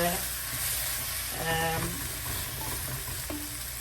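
Curry leaves, pinched by hand, dropped into hot oil while cooking a dried fish curry, a loud, close, continuous sizzle and crackle with brief tonal squeaks, no one talking over it.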